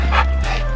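A dog gives two quick, high-pitched yipping barks close by, almost whining, over a low background hum.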